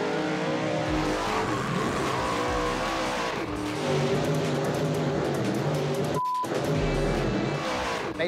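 A drag race car makes a test hit on the street, its engine roaring loud and continuous with shifting harmonic tones, tire noise throughout, and a brief sharp drop near the end before the roar resumes.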